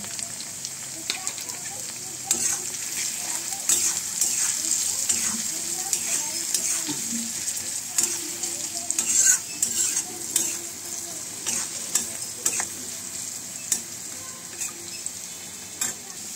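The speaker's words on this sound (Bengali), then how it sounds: "আলু ভালো ফ্রাই হয়ে গেছে" Potatoes frying in a pan for a ridge gourd and poppy-seed curry, with a steady soft sizzle, occasional stirring scrapes and utensil clinks, close and moderately loud, with no one speaking.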